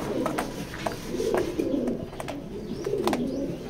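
Racing pigeons in a pigeon loft coo in repeated low rolling calls, close and overlapping, over a faint background of scattered clicks and wing or cage noises.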